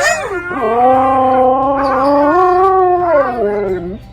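A big dog howls loudly and close by in one long, wavering, sustained cry that rises and falls in pitch over several seconds before tapering off.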